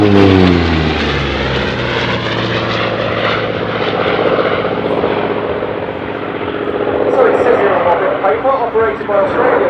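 A loud, steady Hawker Sea Fury T20 engine drones throughout at an air show, a deep propeller roar that swells slightly toward the end, with no break in the sound.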